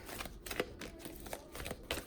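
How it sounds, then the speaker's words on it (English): Oracle cards being shuffled by hand in quick, uneven riffles and slides, a soft papery rustle with light snapping, close and fairly quiet. "I don't know why I shuffle that way. Like, it's so messy."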